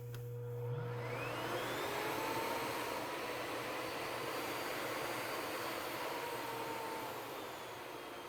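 An old Miele vacuum cleaner starts up and runs steadily, a loud continuous motor whine rising to speed and holding there without pause.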